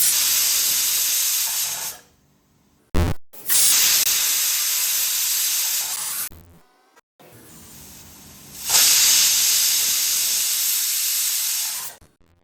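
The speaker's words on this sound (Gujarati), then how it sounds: "હવે પ્રેશર કુકર બંધ કરી 3 વિસલ થાય ત્યાં સુધી કૂક થવા દઈશું." A pressure cooker holding Gujarati sweet-and-sour dal with peanuts lets out three long, loud bursts of hissing steam, separated by brief quiet gaps, close to the microphone with no talking.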